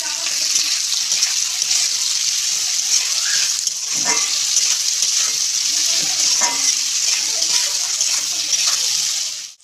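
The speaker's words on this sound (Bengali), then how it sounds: "ভালো করে একটু ভাজতে হবে" Chicken pieces for hotel-style chilli chicken fry in a pan with a steady, loud, hissing sizzle that runs unbroken throughout, with a few faint stirring knocks underneath.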